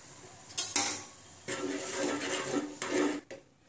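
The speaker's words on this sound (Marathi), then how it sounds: "थोडं थोडं पीठ टाकून आपण उकड करून घेणार आहोत." Close scraping and clattering of a spoon stirring jowar flour into boiling water in a pot, in bursts of a few strokes each, with no voices.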